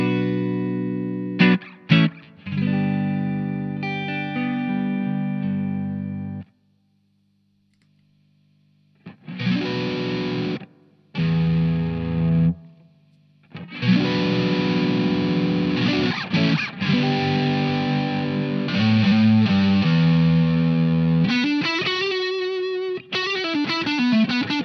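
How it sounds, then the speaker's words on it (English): Electric guitar played through an overdrive pedal, sustained chords and single notes with a mild gritty distortion, loud and clean-recorded, broken by short pauses and silences. "An overdrive is a mild version of a distortion."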